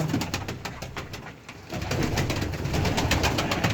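Quality Turkish play pigeons in a coop coo repeatedly in soft, throaty, rolling calls, close by and overlapping with a faint rustle.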